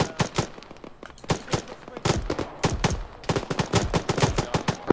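Rapid gunfire from a military video game, with dense overlapping automatic bursts and single cracks that keep going for the whole stretch, loud and close.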